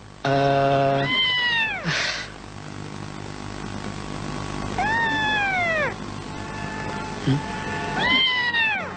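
A cat meows loudly and close by: several drawn-out meows that bend downward in pitch, spaced a few seconds apart, with a faint steady background hum.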